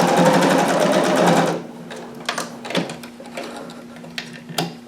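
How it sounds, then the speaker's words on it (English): Sewing machine stitching a seam on a jumpsuit, a fast loud run of stitches for about a second and a half, then stops, with a low hum and scattered clicks and taps as the fabric is handled. "stitch to the bottom and back stitch again"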